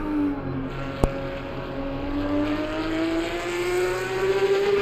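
Porsche Supercup race car in the video game Assetto Corsa Competizione at the Nürburgring: an engine note that climbs steadily through the revs, loud and continuous, with a brief click near the start and no talking.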